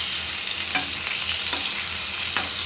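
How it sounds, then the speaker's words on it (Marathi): Bangda mackerel fish frying in a pan over a low flame, a steady close sizzle with a few soft scraping clinks as the pieces are turned. "दुसऱ्या साईडने यांना व्यवस्थित भाजून घ्यायचं आहे।"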